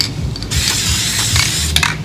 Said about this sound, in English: I was trying out the spray pattern. They say this Dupli-color spray is a little wide,